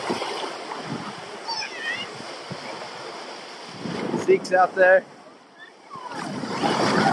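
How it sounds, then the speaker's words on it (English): Ocean waves rolling in at a beach at sunset where boys are out boogie boarding, a steady broadband surf wash with wind on the microphone, while people talk nearby. "The waves are rolling in, perfect for boogie boarding."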